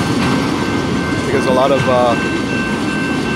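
A CP Rail freight train rolling by nearby with a steady loud rumble and rattling wheels throughout, plus a brief screech, while a person talks over it.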